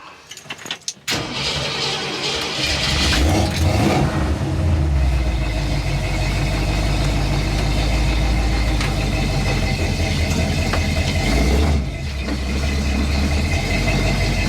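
An AMC 360 V8 car engine runs loud and close, revving up and then holding a steady, throaty drone as the car pulls away, with no talking.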